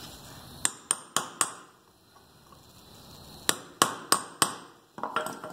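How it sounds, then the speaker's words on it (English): Sharp metallic taps of a hammer on a chisel working a front suspension part loose on a 1985 Mercedes 300CD, a quick run of four close strikes, a pause, then four more and a scattered cluster at the end. "I just have a chisel here, and I'm just going to tap in."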